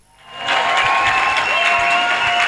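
Applause from an audience at a meet and greet, rising over the first half second into steady, dense clapping that fills the room and carries on without pause.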